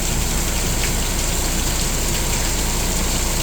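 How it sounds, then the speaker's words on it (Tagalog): Heavy rain pours steadily at night during Typhoon Luis, a dense, even hiss that stays loud and unbroken throughout, with a faint low engine rumble underneath. "lakas ng ulan"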